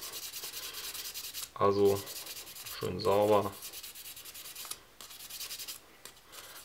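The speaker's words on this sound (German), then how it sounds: "wenn man mit benutztem Schleifpapier über einen Löffel drüber geht" Used sandpaper rubbed over a metal spoon while making a hand puppet's eyes, heard as two short, gritty scraping strokes against quiet background hiss. Someone speaks briefly near the end.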